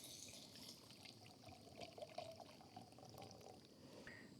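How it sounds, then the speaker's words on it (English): Faint water pours and splashes into a pot, a soft continuous trickle with small gurgles, quiet and close, cooking outdoors by a lake in winter in Finland. "Now we add water."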